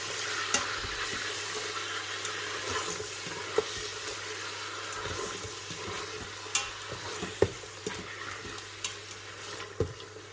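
Ginger garlic paste sizzles in a Duo 7-in-1 5.7-litre Instant Pot on low saute while being stirred, a steady close hiss dotted with light scraping clicks over a faint hum.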